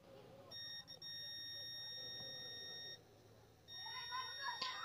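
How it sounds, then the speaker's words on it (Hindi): A multimeter gives a continuity test beep while probing the output of a panel power supply during repair, a faint steady electronic tone that holds for a few seconds, stops, then returns over low background noise. "देख सकते हो कि हमें यहाँ पे बीप साउंड आ रहा है"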